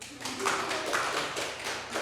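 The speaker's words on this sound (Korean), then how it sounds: "박수 한번 쳐주세요." A church congregation at a Sunday worship service claps together in a brief, uneven burst of applause, close and fairly loud, with a few scattered claps at the end.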